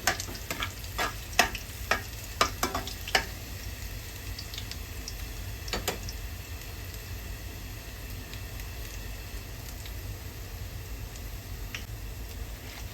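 Spinach stir-fried in a pan: a steady close sizzle runs throughout, with several sharp clacks of the utensil scraping and tossing early on, then mostly continuous frying alone.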